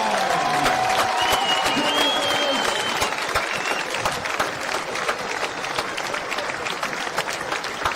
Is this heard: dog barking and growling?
no